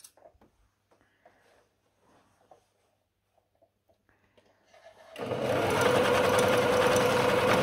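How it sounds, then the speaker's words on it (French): A sewing machine stitches a boxer short: quiet handling clicks and rustles come first, then the motor starts and runs in a loud, steady, fast mechanical whir to the end. "Et là, je démarre ma piqûre."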